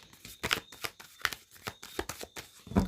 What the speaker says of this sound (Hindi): लास्ट शफल प्रभु जी,